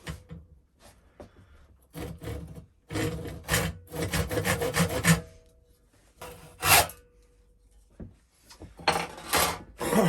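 Hand saw cutting off a piece of wood held in a sash clamp, bursts of close rasping strokes in uneven rhythm with short pauses between runs.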